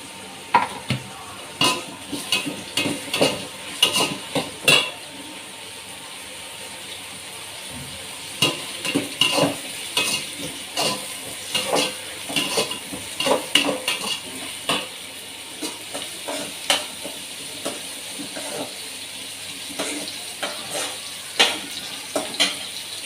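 Onions and tomatoes sautéing in a pan for chicken biryani gravy, with a spoon repeatedly scraping and clinking against the metal over a steady low sizzle, the stirring coming in uneven close bursts with brief lulls.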